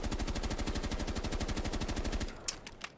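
Automatic gunfire from a gun in Rainbow Six Siege with a no-recoil setting: a rapid, unbroken burst of loud shots runs about two seconds, then stops, leaving a few sharp clicks.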